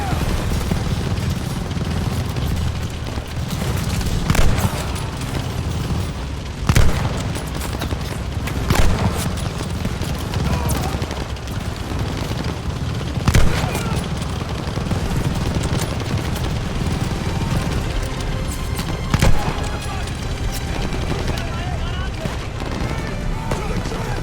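Sustained gunfire and machine-gun bursts from a Call of Duty: Vanguard battle during Operation Tonga, loud and continuous, with occasional heavier booms, under shouted soldier commands.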